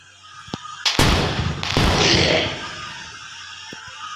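Rocket launcher blasts go off in a zombie video game: one sharp bang, then a booming explosion with a long rumbling tail that fades over a couple of seconds, with faint clicks before and after.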